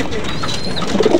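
Breeder pigeons in their cages give soft, low cooing calls close by, a short burst of murmuring coos over faint background noise.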